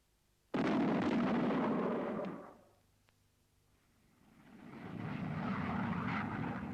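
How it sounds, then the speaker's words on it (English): A supersonic aircraft flying above Mach 1 passes with a sudden sharp onset into a loud roaring rush, fading to near quiet before a second broad rumbling swell builds. "The same sort of thing may happen with an aircraft flying at a steady speed above Mach 1, either transonic or,"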